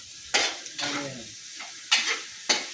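Onions frying in a pan are stirred with a utensil, giving several scraping strokes over a steady low sizzle, fairly close and moderately loud, with no talking.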